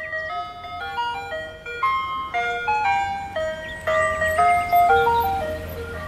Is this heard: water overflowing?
no